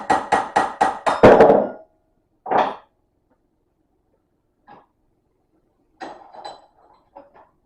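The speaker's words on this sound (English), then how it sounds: "I'm just working back and forth from one side to the other with a punch and a hammer" A rapid series of sharp metallic taps from a hammer striking a punch on a Lotus Esprit Bendix brake caliper, followed by a few scattered knocks and clinks, with silence between.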